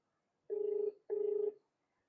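Two long buzzing rings of a phone ringback tone, evenly spaced with a short pause between, heard clearly against silence.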